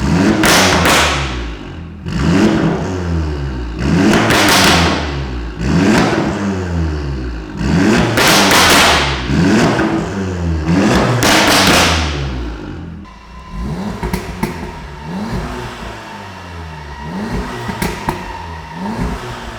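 An Audi S3 with a custom valved exhaust and GPF delete, valves open, revs in a series of loud, sharp bursts that rise and fall roughly every two seconds, then settles into a lumpy idle with lighter blips.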